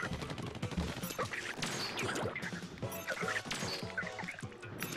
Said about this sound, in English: He shot me while I was in squid form.